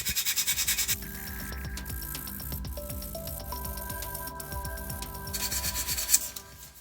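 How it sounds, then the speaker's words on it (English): Sandpaper rasps back and forth over model car body halves in quick, regular strokes, close up and alone, with a faster burst of rubbing at the start and end. "The body halves were now dry enough to sand it down."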